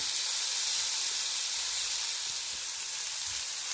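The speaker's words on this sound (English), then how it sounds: "Another minute on that side. Let's get that nicely grilled." Chicken breast sizzles steadily in a hot grill pan on a stovetop, a continuous close hiss with faint crackles running throughout, with no talking.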